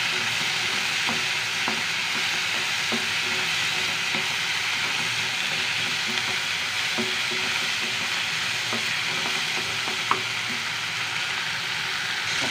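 Garlic and chillies sautéing in a pan, a loud continuous close sizzle with occasional light taps of a stirring spoon, no voices.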